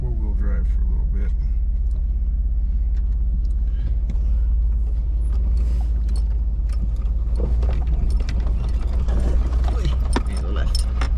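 A vehicle in 4-wheel drive on a rough trail near a sagebrush cemetery gives off a loud, constant low rumble with rattling and clunking mechanical noises. Voices speak over it at times.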